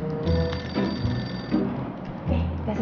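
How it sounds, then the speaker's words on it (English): A telephone rings repeatedly indoors during a Malaysian comedy drama scene, moderately loud with a steady, pulsing ring over low background noise. "There's a phone call for you."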